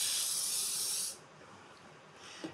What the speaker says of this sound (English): Spray a dozen paper liners in a muffin tin with nonstick cooking spray.